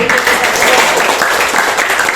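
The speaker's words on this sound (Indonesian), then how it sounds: "Oke, tepuk tangan dulu." Schoolchildren in a class clap together after singing a patriotic song, a loud, sustained round of applause with voices mixed into it.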